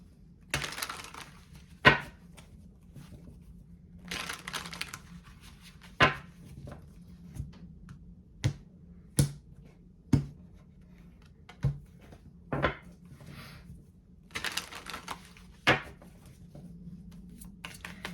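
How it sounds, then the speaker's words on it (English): Tarot cards are shuffled in quiet, irregular bursts of riffling and sharp snaps, with short pauses between, and no one speaking. "Let me give these a good shuffle."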